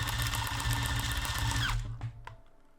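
EMG Autobot electric speedloader pushing airsoft BBs into an MTW magazine, a close, steady motor whir that winds down and stops, followed by a few faint clicks and handling noises.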